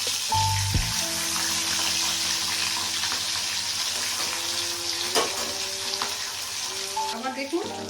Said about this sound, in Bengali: আরো দুটাকে ফ্রাই করে তুলে নিলাম।